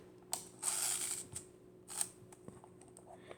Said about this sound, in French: On arme l'appareil.